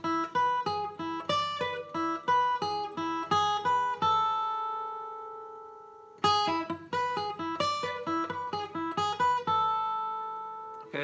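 Bluegrass guitar lick in E played alone on acoustic guitar, two quick runs of bright picked notes, each ending on a sustained ringing note, clear and close with no talk.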